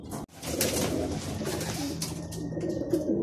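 Pigeons arriving from a training flight in Pagbilao coo nearby in soft, repeated throaty calls over a busy background, with a brief sharp knock near the start.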